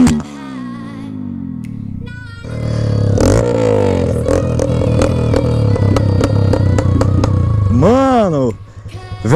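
A Honda CG160 Fan motorcycle with a bare Yamaha XJ6 exhaust pipe idles and revs loudly with a raspy, popping exhaust note, rising and falling, then a sharp rev near the end.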